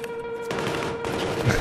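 A big gun in Battlefield 3 fires a sustained burst of heavy automatic shots, dense and loud, starting abruptly after a brief lull.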